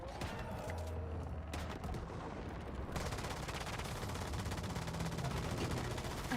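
Shotgun fire in the survival shooter Once Human: a quick string of sharp gunshot bursts over a rough, busy combat background, moderately loud and close, with fighting noise continuing around them.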